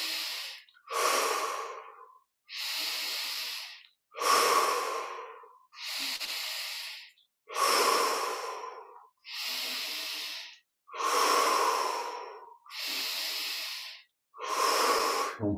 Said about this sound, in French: On prend plaisir à ces respirations